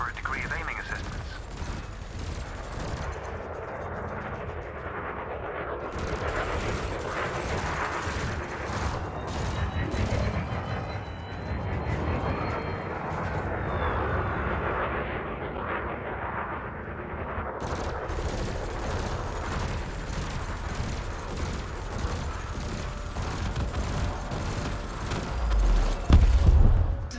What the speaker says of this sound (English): You may have noticed that multi-cannons are effective against unshielded targets.